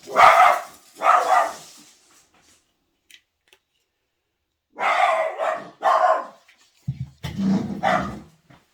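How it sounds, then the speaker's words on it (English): A dog barks in short clusters, two sharp barks, a pause of silence, then several more barks close by. "What you barking at?"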